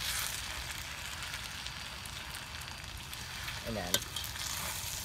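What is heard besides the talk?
eggs frying in a pan for mee goreng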